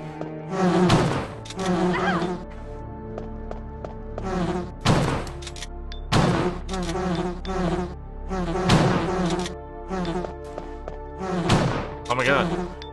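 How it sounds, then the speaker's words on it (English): Bees buzz in the PS1 Resident Evil game, a droning insect hum running continuously beneath repeated heavy thuds and game sounds, with a person talking over it at times. "Why is there bees?"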